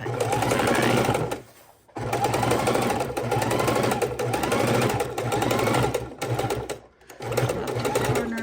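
A sewing machine stitches a paper junk journal cover in long steady runs, pausing briefly twice, close and loud, while a person talks over it.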